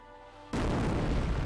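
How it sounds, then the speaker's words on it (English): An incendiary mortar shell bursts in Company of Heroes, a sudden loud boom that follows a quiet, humming stretch and fills the rest of the moment with a dense, roaring blast wash. "Incendiary mortar there."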